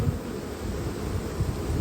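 Italian honeybees buzzing at a freshly opened hive, a dense steady hum of many insects, close and continuous with no voices.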